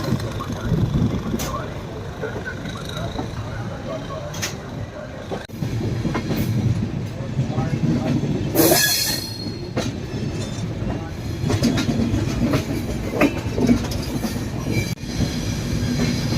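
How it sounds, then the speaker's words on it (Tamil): The Puducherry–New Delhi Superfast Express 22403 pulls out of Itarsi Junction, wheels clacking rhythmically over rail joints and squealing briefly, a loud steady rumble close by with faint voices in the background. "இட்டார்சி ஜங்ஷனில் ட்ரெயின் பார்த்தீங்கன்னா டிபார்ட் ஆகி போயிட்டு இருக்கு."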